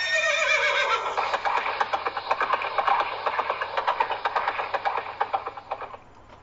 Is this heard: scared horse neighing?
yes